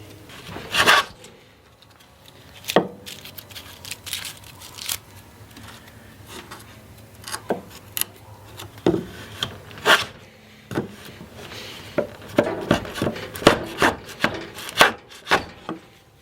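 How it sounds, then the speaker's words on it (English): An antique Union Factory hand plane cuts heavy wood shavings, with sharp, close swishing strokes scattered irregularly at first and then coming in quicker bursts, with handling knocks between them. "It's actually taking a fairly heavy shaving."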